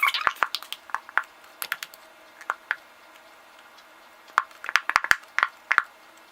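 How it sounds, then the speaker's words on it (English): Thick white school glue squeezed from a bottle for homemade slime, giving a run of soft wet squishes and sticky ticks, with faint clicks spread in clusters, close and quiet, with no talking. "the first step is that we're going to pour in our glue"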